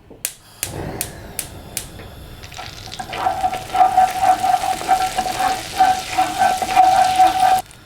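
Onion and garlic are sautéed in butter in a pan. A few sharp clinks open it, then a rising crackling sizzle builds and continues steadily with a high hiss until it cuts off.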